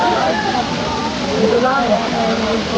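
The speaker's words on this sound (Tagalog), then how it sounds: "Ang Daranac Falls ay may height na 14 meters or 46 feet." Daranak Falls in Tanay, Rizal, a 14-meter waterfall, gives a loud, steady rushing roar throughout, with a voice talking over the water.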